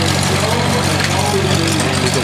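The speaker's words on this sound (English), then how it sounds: "He's got the little Titan engine on the front." A small Titan engine mounted on the front of a stationary baler runs at a steady, close, droning idle, with a faint voice talking underneath.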